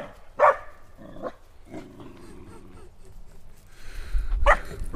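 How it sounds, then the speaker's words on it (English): Several dogs barking outdoors near a grove, a few sharp barks and yips scattered across moments with some quieter rustling and brief movement between them. "I got too many dumb dogs around here."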